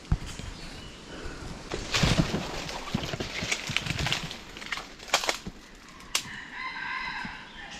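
A wild junglefowl crows somewhere in the forest, a faint, distant call near the end amid rustling, scattered clicks and outdoor noise.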